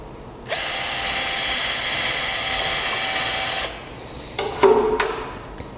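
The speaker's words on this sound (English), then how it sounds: "I'm gonna grab my drill, stir the hell out of it" A power drill whirs steadily for about three seconds, stirring a sugar mash, then stops; a few clunks and sloshing sounds follow.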